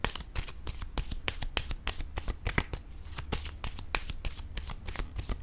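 A deck of playing cards riffled and shuffled in quick repeated bursts, crisp papery flutters close by and fairly loud, with no talking over them.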